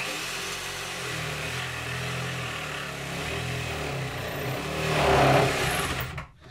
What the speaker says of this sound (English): take a drill if you got one handy, and just start a hole